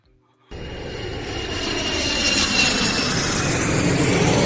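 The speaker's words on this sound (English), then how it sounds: "Is there another plane outside." An airplane passes overhead. Its engine roar cuts in suddenly after a brief quiet moment, then swells into a loud, steady, broadband drone that fills the rest of the stretch.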